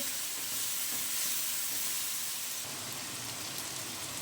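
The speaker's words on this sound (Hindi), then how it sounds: "अच्छी तरह मसालों की भी साथ भुनाई कर लेंगे" Spices and coriander powder roasting in a pan for a chicken keema dish, a soft continuous sizzle and hiss with faint scraping, steady and fairly quiet throughout.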